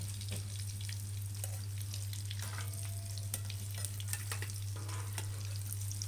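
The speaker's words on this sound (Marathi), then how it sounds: "आता जेवढं लागतं तेवढं मी तळून घेते" Vada, spiced potato fritters for vada pav, deep-frying in hot oil: a continuous close sizzle and crackle with scattered pops, a low hum underneath and occasional clinks of a utensil, with no talking.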